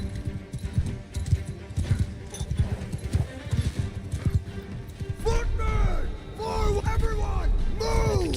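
Horse hooves clip-clop at a fast pace in the medieval combat game Bannerlord, a steady rhythmic galloping under a man's ongoing speech, with a horse whinny and other game sounds rising near the end.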